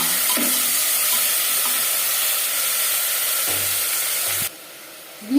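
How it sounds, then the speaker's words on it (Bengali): Tomato and onion fry in the pan for a restaurant-style mutton curry, giving a steady close hiss of sizzling with a few soft stirring bumps before the sound drops noticeably quieter near the end. "আর দিয়ে দেবো টমেটো পেঁয়াজ টমেটো হালকা করে দিয়ে"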